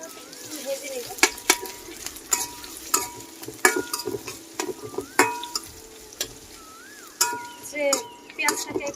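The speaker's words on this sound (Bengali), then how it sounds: "এখন পেঁয়াজটাকে ভেজে নেব।" Chopped onion with four green chillies frying in a pan for a village-style fish and taro dish, with scattered loud stirring scrapes and clinks over a steady sizzle, close by.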